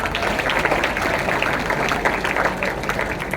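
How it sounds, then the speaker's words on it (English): An audience at a marketing class gives a round of applause, a steady dense wash of many hands clapping together, continuous and fairly loud throughout. "Give a round of applause, please."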